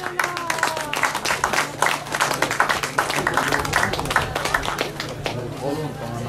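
Applause from an event crowd as the new French cycling champion receives the blue, white and red jersey, dense clapping running steadily throughout, with crowd chatter and talk mixed in.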